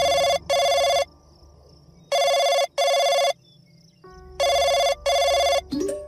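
A telephone rings loudly and close in three pairs of bright electronic trills separated by short pauses, ending with a faint click as the call is picked up.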